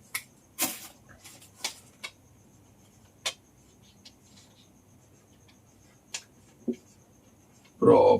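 Marker or chalk writing on a lecture board, heard as scattered short taps and scratchy strokes spaced irregularly over near silence, with a brief burst of voice at the very end.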